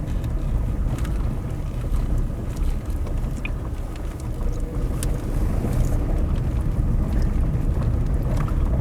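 A car rolls slowly over an uneven gravel road near Britstown, producing a continuous low rumble and crunch mixed with wind noise, steady throughout with no voices.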